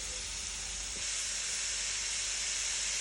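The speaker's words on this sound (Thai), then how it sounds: "ผัดหมูกับพริกแกงให้เข้ากันดี" Minced pork and curry paste frying in a hot pan, a loud, steady hiss of sizzling that swells slightly after a second and continues without pause.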